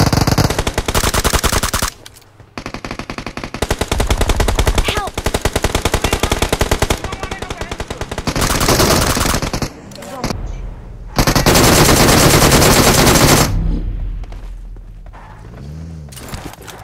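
Automatic gunfire in a PUBG Mobile close-range fight, long rapid bursts of loud, close shots broken by short pauses, with voices speaking briefly between volleys.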